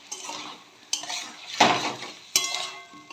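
Potatoes coated in Kashmiri chilli powder and a little water are stirred in a pan, giving three or four separate scraping strokes against the metal between brief quiet gaps, with only a faint sizzle.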